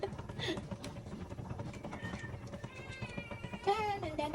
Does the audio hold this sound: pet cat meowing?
yes